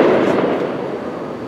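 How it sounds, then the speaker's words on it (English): A single loud firework bursts, opening with a sharp crack and then trailing into a broad, rumbling decay over roughly a second and a half, with no voices. "I really hope that was a firework."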